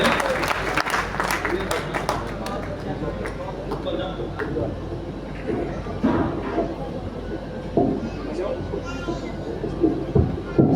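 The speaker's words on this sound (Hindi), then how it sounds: "जोरदार तालियों से आमंत्रित करें प्रिय मोहित शौर्य" A packed crowd at a Hindi poetry recital in Meerut claps loudly and steadily to welcome a young poet to the stage, the dense clatter running throughout with voices mixed in.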